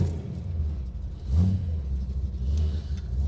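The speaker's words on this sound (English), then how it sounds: "so here's our cold start. One pump." A 1965 Ford Mustang Shelby GT350 tribute cranks through a cold start, its engine rumbling loud and close with uneven surges and a rev around the middle.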